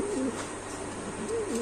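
Pigeons coo in a loft holding around a hundred pairs, with soft repeated rolling coos near at hand against a low steady background hum.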